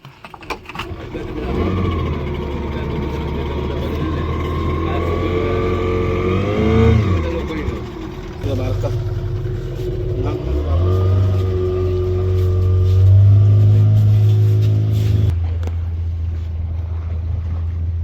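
A boat's engine drones steadily at Vijaydurg Fort as the boat sets off on the creek, loud and close, with the pitch rising and falling as it throttles up, and people talk faintly over it.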